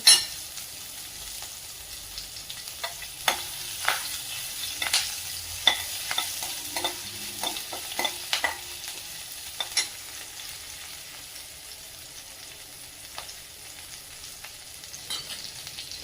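Green chilli, crushed garlic and curry leaves sautéing in hot oil, a steady hissing sizzle with occasional sharp pops and light utensil scrapes, fairly close and moderately loud over a long stretch.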